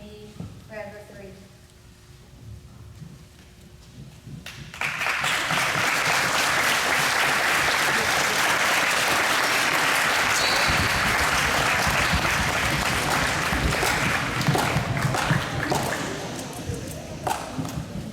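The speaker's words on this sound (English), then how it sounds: "Let's get one more big round of applause, guys." Audience applause fills a school Veterans Day ceremony, loud sustained clapping from a large crowd that bursts in after a spoken line and carries on for over ten seconds.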